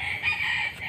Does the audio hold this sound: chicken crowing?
yes